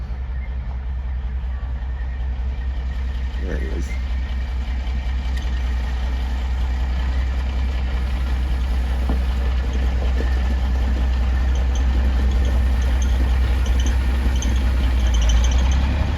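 A heavy equipment engine rumbles steadily, growing slightly louder as it approaches down a driveway, with someone briefly speaking over it.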